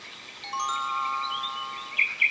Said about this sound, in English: When it's time to turn the page, you'll hear the sound of the bell like this.